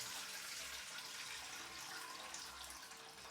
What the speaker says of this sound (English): No idea how much water I'm going to have to put in, but I want to have it fairly full.